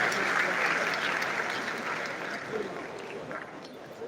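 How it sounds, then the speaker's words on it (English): A ceremony audience applauds to welcome the chairman at a medical college induction of newly qualified doctors, a dense, steady wash of clapping that fades slightly toward the end. "Please join me in round of applause to welcome the chairman of the occasion"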